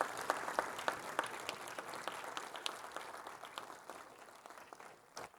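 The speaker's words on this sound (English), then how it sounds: "Stand up and let's give them a round of applause in advance for the work they've done for this course." An audience at a college civic curriculum session applauds the course professors: a steady, fairly quiet round of many hands clapping with sharp individual claps standing out, fading slightly toward the end.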